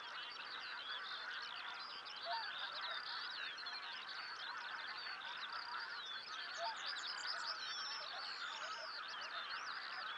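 A large flock of geese and swans honks continuously at a distance during a spring hunt, a dense, steady chorus of overlapping calls with no talking.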